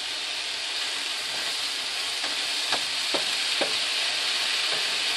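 Broccoli florets stir-frying in a hot pan for Kung Pao, a steady close sizzle and hiss with a few scraping stir strokes, no talking.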